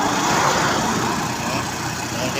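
Trucks idle in a long queue outside a Cargill facility in General Santos, making a steady, loud, continuous engine rumble with no breaks.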